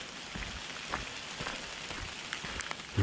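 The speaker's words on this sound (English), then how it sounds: "drizzle of rain" A light drizzle of rain falls during a woodland walk, a soft continuous patter of scattered drops with occasional closer taps and no talking.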